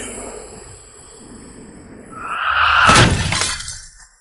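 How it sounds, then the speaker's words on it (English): Glass shatters in a single loud burst after a quiet, low rumbling lead-in, the crash peaking sharply and then scattering into fading fragments over the next second. "Glass exploded."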